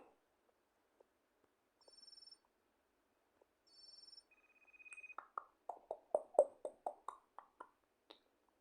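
A phone rings twice with electronic tones in a quiet room, then a brief beep, followed by a run of loud clicks or taps.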